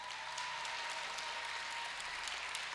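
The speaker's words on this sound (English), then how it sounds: "Would you give her a round of applause?" Audience applauding at a high school graduate awards ceremony for the Art Student of the Year, steady, dense clapping from a crowd, distant and faint but continuous.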